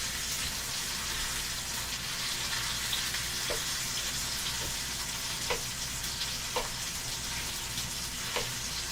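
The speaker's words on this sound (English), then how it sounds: "Now the oil is getting a little too intense." Oil sizzling steadily in a pan on a quick-heating double burner of a home stove, a dense continuous crackle with a few sharper pops scattered through, close and fairly loud, no talking.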